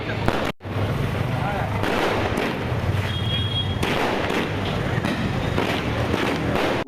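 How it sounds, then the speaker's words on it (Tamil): Firecrackers set off by a crowd celebrating an election win outside a home, a dense continuous crackling roar of rapid bursts, loud and sustained throughout with a brief dip near the start. "சி.பி. ராதாகிருஷ்ணன் வீட்டின் முன்பு பாஜகவினர் மற்றும் உறவினர்கள் பட்டாசு வெடித்தும் இனிப்புகள் வழங்கியும் வெற்றியை வரவேற்றனர்."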